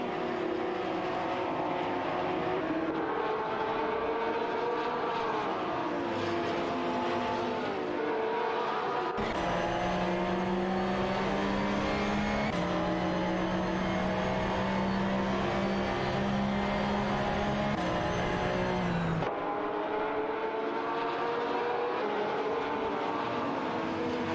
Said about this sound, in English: AR Fail is piloting an Ascari Gazone R, while Alex Cosmonaut is in a Porsche 911 990 GT3 RSR.